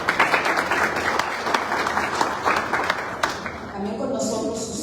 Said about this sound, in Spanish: Ahora sí, un aplauso.